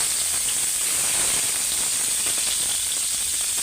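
Fish pieces frying crisp in hot oil give off a constant hissing sizzle, close and even in level for the whole stretch, with no talking.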